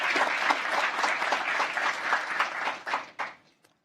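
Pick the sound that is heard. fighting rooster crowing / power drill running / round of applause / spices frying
round of applause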